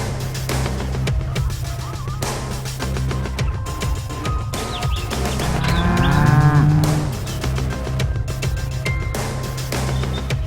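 A toy Simmental cow with horns gives a loud, drawn-out electronic moo, repeated several times in a steady pattern, close and alone.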